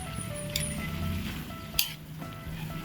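Sautéed banana blossom seasoned with pepper and soy sauce sizzles steadily in a pan, with a couple of sharp scraping clinks from the stirring utensil and no talking.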